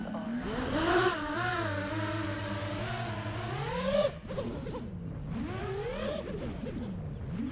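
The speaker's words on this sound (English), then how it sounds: "Engines on." Motors on a 9-inch, 2.2 kg quadcopter drone whine steadily in flight, their pitch gliding up and down in smooth sweeps as it maneuvers through flips and rolls, a loud continuous electric buzz with shifting harmonics.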